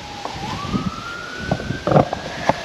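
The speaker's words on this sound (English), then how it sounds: "yeah, listen to that ambulance," An ambulance siren wails in the distance outdoors on a windy winter day, its tone slowly rising and holding steady beneath gusty wind noise and a few nearby knocks.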